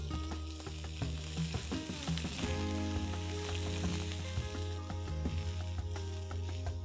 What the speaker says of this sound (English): we're going to saute this till the onion are nice, soft and translucent